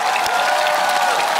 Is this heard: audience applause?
yes